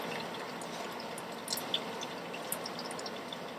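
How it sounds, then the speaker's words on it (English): Motor oil drips from an upturned oil filter into a drain pan beneath a Ford F350 with a 6.7L diesel, a few faint, scattered drips over a steady low background hiss. "Then we turn the filter over and let it drain inside the pan. While we're waiting for that to drip"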